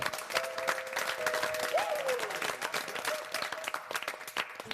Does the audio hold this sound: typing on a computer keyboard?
no